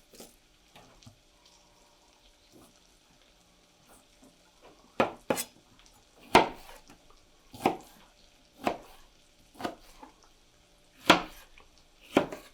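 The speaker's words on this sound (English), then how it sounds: "We're going to add Roma tomatoes, just a couple of them. And again, a fairly rough chop, not real big, or not real small." A knife rough-chops Roma tomatoes for an Indian curry on a board, with about ten sharp, irregular knocks in the second half after quiet kitchen clatter.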